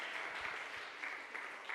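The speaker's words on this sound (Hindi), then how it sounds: "जोरदार ताली बजाएंगे प्रभु की महिमा के लिए।" A congregation at a Hindi-language Christian worship service claps, a faint, distant patter of many hands that rises and falls in soft bursts over a brief moment.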